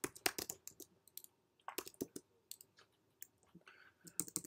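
Typing on a computer keyboard, quick clusters of close, faint key clicks separated by short pauses, with no talk.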